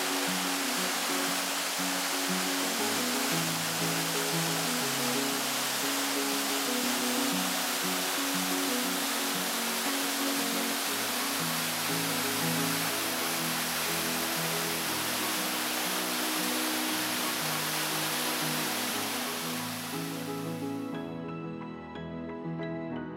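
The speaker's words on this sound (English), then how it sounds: "an intensely beautiful stream nestled with Catawba rhododendron that bloom in late spring. This cascade is especially scenic in winter" A cascading stream in the Great Smoky Mountains pours in a steady, loud, broadband rush that holds unbroken for about twenty seconds and then cuts off abruptly near the end.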